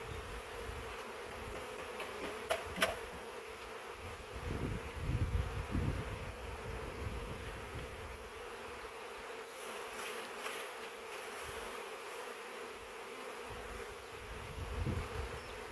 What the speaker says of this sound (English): pick up this package of bees. I'm going to give it a good shake.